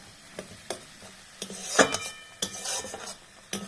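Masala being stir-fried in a pan with little oil and small splashes of water: a soft sizzle under sparse, sharp spatula scrapes and clinks against the metal, spaced irregularly.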